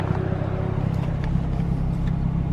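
A Nissan 350Z fitted with a Tomei exhaust idles with a steady, deep, even rumble heard close up, alone and with no speech over it.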